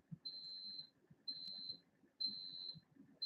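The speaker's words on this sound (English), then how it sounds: "That's your dehydrator beeping." A quiet food dehydrator beeps in a regular rhythm of long, even tones, four in a row, over faint background murmur.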